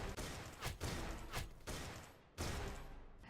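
A secondary gun fires in the video game Bopz.io, a dense, loud, continuous barrage of shots with a few distinct sharp bursts standing out, no talking.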